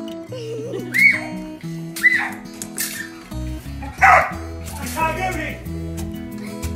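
Excited dogs bark and yip in short, loud bursts over background music, with some whimpering between barks.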